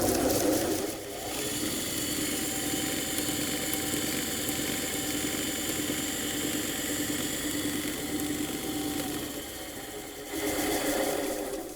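A hand-started beet cutter fodder chopper running on inverter power spins with a steady, continuous mechanical whir and hum, close by and unbroken for the whole stretch.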